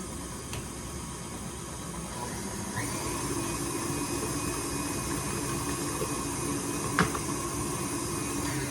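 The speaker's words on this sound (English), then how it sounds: "I do love my KitchenAid mixer" KitchenAid stand mixer running steadily while mixing peanut butter chocolate chip cookie dough with flour added, a continuous even motor whir throughout with a brief knock near the end.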